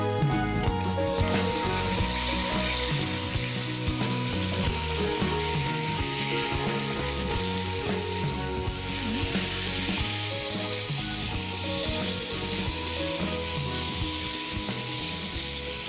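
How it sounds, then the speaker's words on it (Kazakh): Meat browning in hot oil for a chicken salad, a steady dense sizzle running throughout, close and loud, with music-like tonal layers underneath. "екі жағын қызартып, майға қуырып аламыз бірінші"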